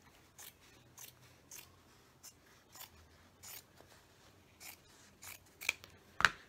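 Scissors snip through fabric for a box book journal, a series of quiet separate cuts spread irregularly and close by, with one louder crisp snip near the end.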